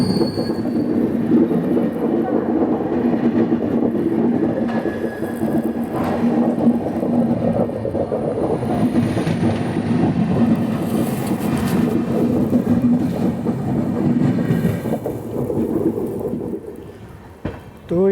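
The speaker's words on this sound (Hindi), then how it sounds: "ये है 22180 MGR Chennai central Lokmanya Tilak terminus weekly superfast express." The 22180 MGR Chennai Central–Lokmanya Tilak Terminus weekly superfast express rumbles past close by, a steady loud roar of wheels and carriages holding for the whole stretch before easing off at the end.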